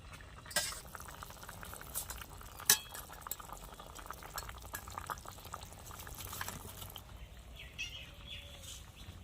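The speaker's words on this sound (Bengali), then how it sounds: "এবার হালকা ফুটিয়ে আমি নামিয়ে নেবো" Rohu fish curry with pumpkin greens and potato simmers gently in a pot, a faint continuous bubbling with occasional soft clinks of a spoon against the pot, and no voices.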